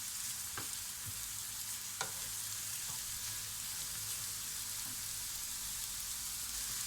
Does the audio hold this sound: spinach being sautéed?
yes